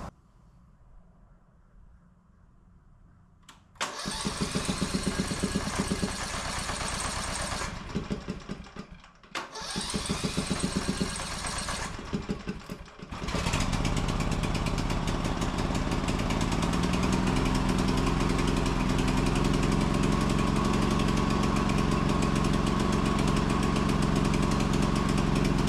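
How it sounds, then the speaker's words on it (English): A portable generator engine with a dead battery, jump-started: a quiet hum, then cranking for several seconds, a brief pause, more cranking, and the engine catching into a loud, steady, close running drone. "So I'm going to try to crank it up, see if we can get it running."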